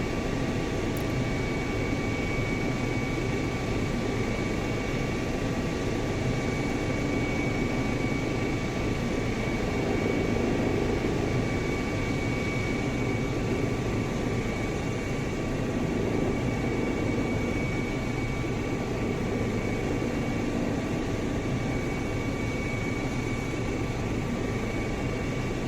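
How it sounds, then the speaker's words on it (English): A Eurocopter EC135 helicopter in the X-Plane 11 flight simulator hums with a steady, loud turbine and rotor drone, continuous and unchanging, with a faint high whine riding on top and no talking. "slowly get the helicopter under control as I'm working with the trim"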